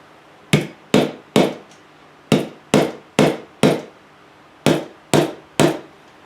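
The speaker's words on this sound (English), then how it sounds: "Nothing like beating on Cisco cards. Basically all I'm doing is flattening it out." A hammer flattens a bent metal Cisco router card in close, loud, ringing strikes. They come in three quick bursts of three or four blows, with short pauses between, and nobody speaks.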